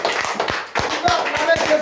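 A congregation at a night prayer gathering claps to acclaim Jesus, a brief run of sharp, roughly rhythmic hand claps close by, mixed with a speaking voice.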